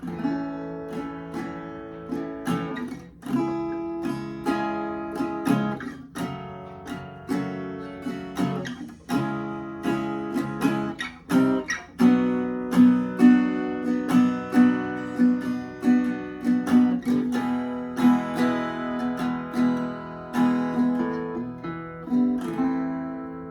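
Acoustic guitar strummed in steady chords with a descending bass walk-down between them, ringing close and clear, no voices.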